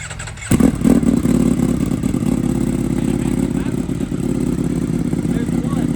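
A 2025 Ducati Panigale V4S with a full Akrapovic exhaust fires up and holds a loud, steady, deep engine rumble close by, the sound jumping in abruptly after a brief quiet start.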